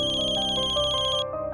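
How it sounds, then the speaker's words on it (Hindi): A phone ringtone plays loudly nearby, a bright electronic melody that cuts off abruptly near the end. "तेरे आशिक का फोन है"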